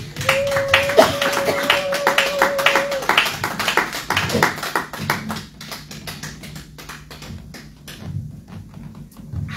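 A church congregation claps in lively, uneven bursts during a service, with a voice calling out briefly at the start; the clapping thins into scattered, sharp hand claps as it goes on.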